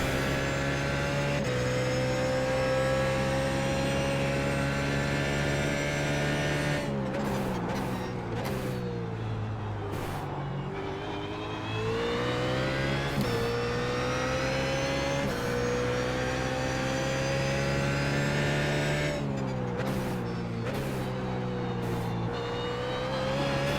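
BMW Z4 GT3 race car in iRacing at Sebring International Raceway, a continuous loud engine drone that climbs through the revs, with abrupt gear-change cuts and downshift blips between long pulls.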